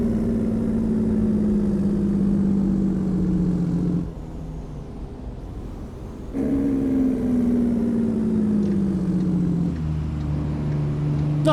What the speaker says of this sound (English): Let's do some engine braking while I'm at it.